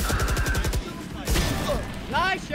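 Gunshots in the tactical shooter Valorant, with a sniper-rifle-style Marshal in play, a few sharp loud reports with game effects and ringing tones around them, while players talk over the action.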